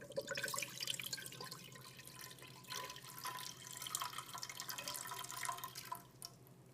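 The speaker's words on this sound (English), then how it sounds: "Next, you will want to pour your water into a pan over the stovetop." Water is poured into a pan on a stovetop, a soft, continuous splashing and dripping stream, fairly quiet and close, with small bursts of louder trickling and no talking.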